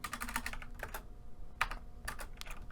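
Computer keyboard keys typed in bursts of rapid clicks with short pauses between them, fairly close and clear, while coding in Java, with no talking.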